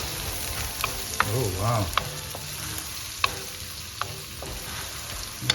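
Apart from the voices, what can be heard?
ginger being stir-fried in a pan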